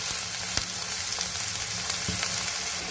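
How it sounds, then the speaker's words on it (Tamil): Onions sautéing in a hot pan for a homemade bangada (mackerel) fish curry, giving a steady close sizzle and crackle with occasional pops and stirring scrapes, no voices. "வெங்காயம் நல்லா வதங்கிடுச்சிங்க."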